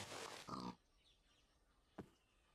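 Pigs in a video game give a loud, close grunting burst, then fall quiet before one short, sharp grunt about a second and a half later.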